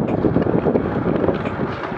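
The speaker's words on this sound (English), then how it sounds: "Now I got the wind in my back." Wind buffets a microphone on a moving Rad Power RadWagon e-bike, producing a close, continuous low rumble with uneven gusty swells throughout.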